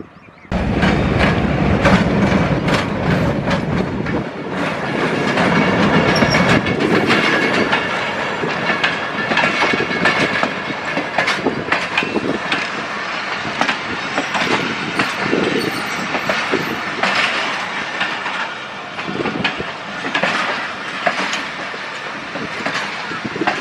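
A crowded Millat Express passenger train passes close by at Faisalabad Dry Port, its cars rumbling loudly with steady clickety-clack from the wheels over the rails throughout, no voices over the din.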